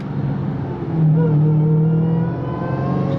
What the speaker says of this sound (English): I just love hearing the supercharger whine on these things